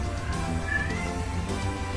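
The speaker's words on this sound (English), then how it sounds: "Oh my gosh, cats!" Cats meow in the visual novel game Steins;Gate 0, a single faint, drawn-out mew rising and falling over a low steady background hum.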